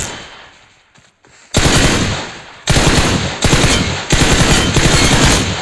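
Automatic gunfire in PUBG Mobile, loud close rapid bursts of shots fired in three to four sustained sprays separated by brief pauses, after a quiet start.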